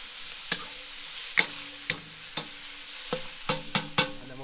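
Mushrooms stir-fry in oil on a Big Green Egg grill with a constant close sizzle, broken by sharp metallic scrapes and taps of the utensil, about a dozen of them, bunching together toward the end.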